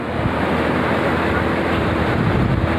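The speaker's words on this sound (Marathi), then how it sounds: "समुद्राच्या लाटा बिलकुल सकाळला सहा वाजता" Continuous surf rushes and hisses with broad steady noise, waves washing in close by on Ganpatipule beach at six in the morning, with some wind and no talk.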